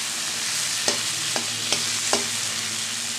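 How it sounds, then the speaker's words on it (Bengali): A spice paste with ginger and cumin fries in a pan under a steady sizzle, and a spoon scrapes and taps the pan four times at a slow, even pace. "দেখো আমার মশলাটা কষানো হয়ে গেছে"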